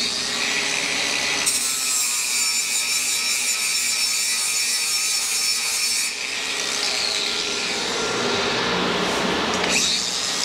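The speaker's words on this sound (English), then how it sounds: "And so let's deburr that quickly." Metal tubing being deburred for a motorcycle side stand repair: a harsh, sustained grinding rasp with a high whine that cuts out briefly and resumes, close and loud throughout.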